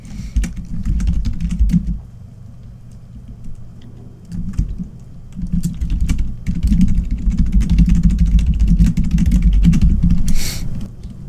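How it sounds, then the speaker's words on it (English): Steady computer keyboard typing runs for about eleven seconds with no talk, set against a low engine-like rumble in the background. "I hate typing out me's in situations like this."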